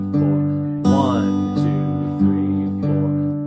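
Acoustic guitar played fingerstyle, a steady alternating thumb bass pulsing under picked treble notes in an even, continuous rhythm, close and clear with no talking.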